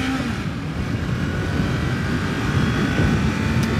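A steady, low engine drone runs throughout, even and fairly quiet, a 2021 Kawasaki Ninja 400 motorcycle cruising with its mellow stock exhaust.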